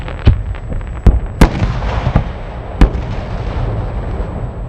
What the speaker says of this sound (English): China, Hong Kong also display the fireworks to celebrate Chinese New